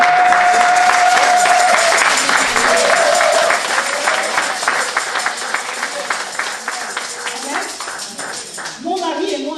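A church audience applauding and cheering to acclaim the Lord, a dense wash of many hands clapping loudly for several seconds with voices mixed in, thinning toward the end as someone speaks.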